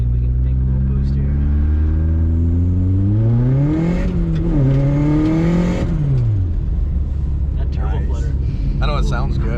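A turbocharged Honda Civic driving in snow revs loudly and climbs through the gears, its engine note rising and falling with a boosting whoosh. People talk over the sustained, close engine roar.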